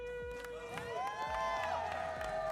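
Crowd at an esports arena cheering during a Valorant grand final between Orangutan and Reckoning Esports, a steady roar of many voices holding for a few seconds, with music tones ringing over it.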